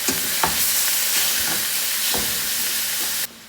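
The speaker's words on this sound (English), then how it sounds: "Let's brown some ground beef and do it." Ground beef browning in a hot pan for a ravioli lasagna, a loud continuous sizzle with occasional scraping stir knocks, close and without voices, cutting off abruptly near the end.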